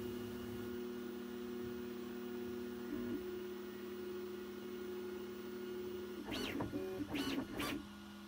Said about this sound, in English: it primes the nozzle by printing on the purge block